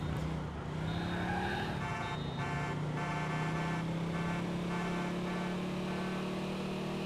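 A car climbing up onto a bridge in Grand Theft Auto IV, its engine a steady loud drone that rises in pitch as it accelerates, with no one speaking.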